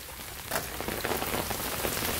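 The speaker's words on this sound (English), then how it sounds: "Alright, so it's been raining a little bit." Steady rain falls on outdoor surfaces and mulch, a dense, even patter of drops close by with no pauses.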